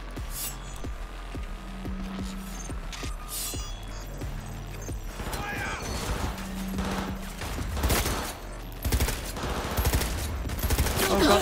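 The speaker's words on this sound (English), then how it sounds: "They're shooting!" Gunfire from the video game Cyberpunk 2077 during a heist mission rattles in steady rapid bursts over game ambience and tones, growing denser and louder toward the end.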